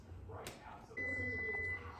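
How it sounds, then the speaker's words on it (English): Kitchen timer sounding while pasta boils on the stove, a single steady high electronic beep tone lasting just under a second, faint against low kitchen rumble, after a brief clatter. "my timer just went off"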